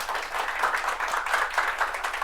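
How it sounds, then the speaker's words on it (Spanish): Clapping from a conference audience at a cybersecurity talk, a short moderate round of applause heard at some distance, with no voices over it. "Un aplauso, por favor."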